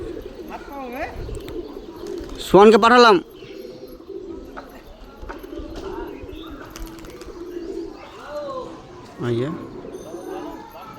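A homing pigeon coos in soft, throaty bursts close by while people talk over and between the calls, with one louder warbling coo standing out.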